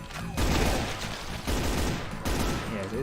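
Bursts of gunfire in Brutal Doom, three loud rapid volleys separated by brief gaps, dense and close.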